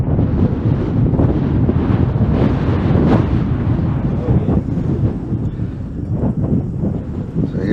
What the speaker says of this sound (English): maybe the wind will calm down too.